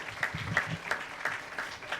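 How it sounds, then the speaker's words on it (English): Scattered audience applause at a real-estate team-building masterclass, a brief patter of claps rising and fading over about two seconds, fairly faint and thin, as if from a small group. "Let's give them both a round of applause for sharing on the spot."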